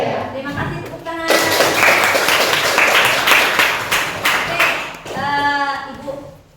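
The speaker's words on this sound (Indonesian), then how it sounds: "Terima kasih, tepuk tangan." A classroom of students clapping together, a dense burst of applause for several seconds after a teacher's brief spoken words, with her voice returning as the clapping fades.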